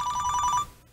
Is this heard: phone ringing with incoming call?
yes